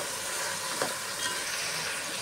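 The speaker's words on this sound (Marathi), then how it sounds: "आता आपण टाकणार आहे अद्रक, लसूण, मिरची, ही बारीक चिरून घेतले। हेही आपण तेलावर परतवून घेऊया।" Finely chopped ginger, garlic and green chili sautéing in hot oil for veg pulao: a steady, close, hissing sizzle throughout, with faint stirring scrapes.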